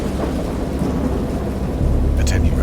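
Thunder rumbles low and continuous beneath steady heavy rain in a great storm at sea near a boat, swelling louder toward the end with no voices present.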